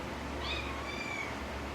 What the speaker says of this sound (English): I'm having cats problems.